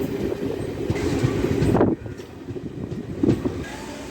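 A DEMU diesel multiple-unit train pulls out of Devarkadra Junction, its steady rumble and rolling wheel noise filling the clip close by, with a brief swell of louder rattling partway through.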